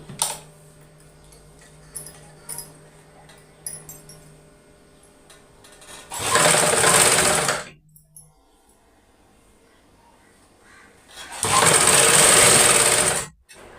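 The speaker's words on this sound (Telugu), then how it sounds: "ఇప్పుడు నేను వచ్చేసి నెక్కు చుట్టూ గట్టి కుట్టు అయితే వేసాను అనమాట" An electric sewing machine stitching the lining of a blouse, running in two loud, steady bursts of about two seconds each, separated by quiet handling sounds.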